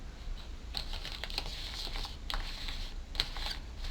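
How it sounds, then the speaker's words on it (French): Lenormand cards are shuffled by hand, giving soft, close riffling and sliding clicks in an irregular run, quiet and without talk. "on va commencer par mélanger les cartes."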